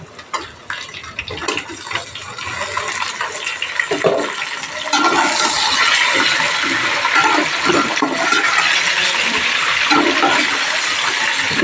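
About three quarters of a pound of washed chicken dropped into a pan of fried onions for biryani, a loud, steady close sizzle that starts with scattered crackles and swells into a constant hiss.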